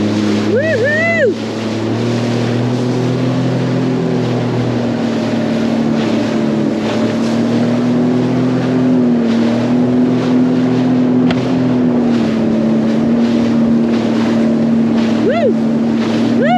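A Sea-Doo rental jet ski running on the ocean off Newport Beach, with a loud, steady engine drone close up, wind buffeting and water rush, and brief excited whoops over it.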